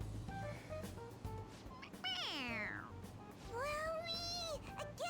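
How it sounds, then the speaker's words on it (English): A stuffed toy creature in Persona 5 Royal lets out two drawn-out, bending meows, one after the other, over a low steady game background hum. "It's a stuffed creature. Yeah, it's just a toy. It meows when you press on its head."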